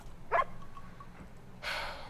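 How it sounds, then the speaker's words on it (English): A dog in the video game Uncharted 4 gives a short whimpering yelp followed by a soft breathy huff, near and fairly quiet against a low background hum. "You cry all you want, dog."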